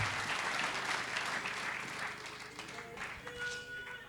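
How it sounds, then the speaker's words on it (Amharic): Church audience applauding after a testimony, a dense burst of clapping that carries on steadily for several seconds, fairly close, with crowd murmur and voices underneath. "ነፃ ላወጣት ለክርስቶስ አጨብጭቡለት።"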